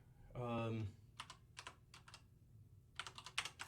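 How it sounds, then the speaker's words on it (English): Typing with one hand on a computer keyboard, with bursts of close key clicks in short irregular runs; a voice talks briefly before the typing. "Oh wow, typing with one hand."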